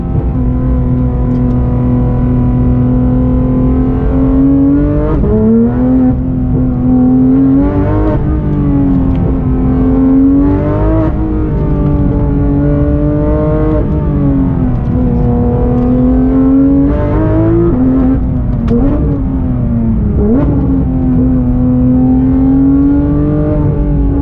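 A 2019 Porsche GT3 RS with its rear-mounted engine pulls hard and loud, revs rising and dropping in repeated surges through gear changes for a sustained stretch, with no voices over it.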